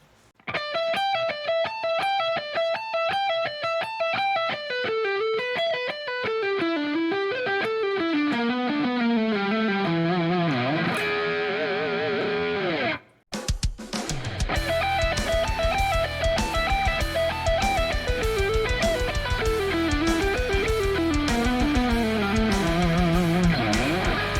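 A gritty, distorted electric guitar plays a bending blues-scale rock phrase alone, then after a short break repeats it over a backing band.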